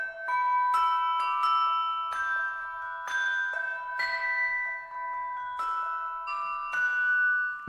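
Orchestral outriggers sample from the Spitfire Symphonic Extras library: bright, bell-like tuned percussion notes struck one after another in a clear melodic run, each ringing and decaying, played alone with no talking.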